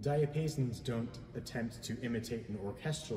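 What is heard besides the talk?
No everyday noises stand out.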